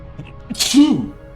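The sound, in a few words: sneeze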